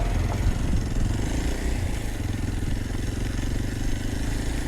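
A Kawasaki KLX230 dual-sport motorcycle rides over rocks and bumps in Bali, its single-cylinder engine a steady close low thrum mixed with rumbling wind and road noise throughout.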